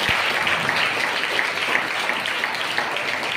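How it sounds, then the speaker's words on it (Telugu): Loud, dense applause from a congregation at a church service, steady clapping filling the room without a break. "చప్పట్లు కొట్టండి గట్టిగా."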